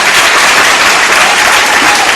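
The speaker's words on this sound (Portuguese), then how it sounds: "Vamos aplaudir esse abençoado desse diácono mesmo." A church congregation claps loudly for a deacon, a dense, continuous roar of applause that stays close and steady from start to finish.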